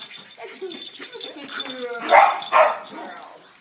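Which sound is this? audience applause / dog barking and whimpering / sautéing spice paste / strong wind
dog barking and whimpering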